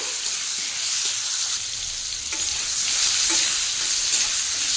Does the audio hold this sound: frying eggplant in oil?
yes